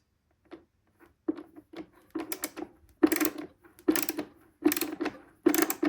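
A ratchet screwdriver clicks close up as it drives in a screw, with sparse single clicks at first and then denser bursts of rapid ratcheting, loud and isolated.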